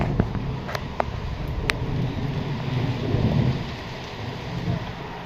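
Heavy rain pours down steadily on a street with a constant dense hiss, a few sharp crackles or distant thunder cracks near the start, and no talking.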